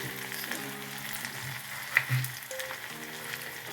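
Chopped onion frying in a pan for a spicy drumstick curry, a steady soft sizzle running throughout with a few brief clinks of a spoon stirring, close and alone with no voices.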